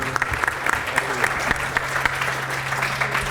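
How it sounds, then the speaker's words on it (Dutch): Studio audience applauding during a Limburg dialect comedy show, a dense, steady wash of clapping at close range that holds for the full stretch with faint voices mixed underneath. "Applaus"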